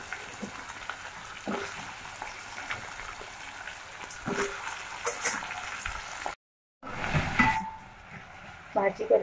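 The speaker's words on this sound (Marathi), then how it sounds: "अळू, हे परतून घ्यायचं।" Colocasia leaves and mixed vegetables sautéing in a pan, a soft crackling sizzle with occasional stirring scrapes, briefly cut to silence partway, while a person talks over it.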